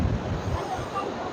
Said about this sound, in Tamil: ஃபால்ஸ் சத்தம் கேட்கீங்க.